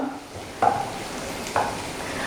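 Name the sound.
sautéing onions with turmeric in a pan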